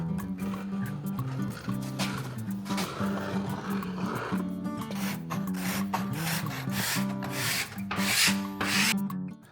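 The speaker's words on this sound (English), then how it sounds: "So we're cleaning those using dull chisel and cabinet scraper." A dull chisel and cabinet scraper scrape dried glue squeeze-out off a glued-up walnut panel, a steady close rasping with repeated strokes running throughout, no voices.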